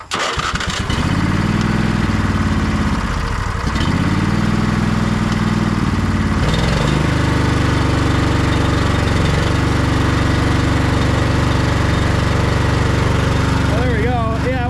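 Lawn tractor engine after a used solenoid replacement cranks in two strained bursts, then catches and runs steadily at a loud, close idle, holding a continuous low drone to the end.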